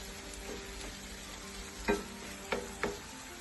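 Spicy aloe vera omelette cooking in a pan, with a faint steady sizzle and a few sharp utensil clicks or scrapes against the pan, no talking.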